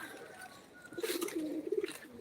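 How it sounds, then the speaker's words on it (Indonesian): Pigeons coo in soft, low rolling calls at close range as a bird is let go at an outdoor gathering with an ondel-ondel performer, the cooing running over a steady background hum. "Kita mau lepas burung."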